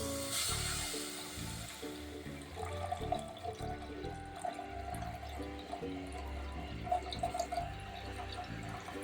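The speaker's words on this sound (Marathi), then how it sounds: "हे शिवल्यांचं पाणी आहे ना हे सुद्धा घालून घेते" Clam stock pouring into a pot with a steady splashing gurgle that rises and falls, close by, with a short clatter at the start.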